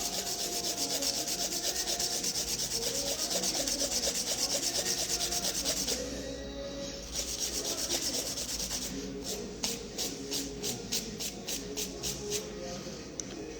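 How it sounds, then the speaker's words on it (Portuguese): A file rasps steadily across a gel nail, a continuous close scratching that pauses briefly and then returns as a run of short quick strokes, with no talking. "Venho lixando mais um pouco."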